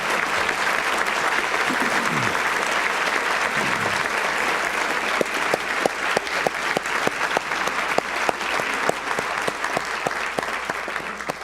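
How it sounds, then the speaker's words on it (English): Sustained audience applause at an education awards ceremony honoring private and independent schools, dense steady clapping from a large crowd lasting throughout with no speech over it. "Let's give a big round of applause to all these folks."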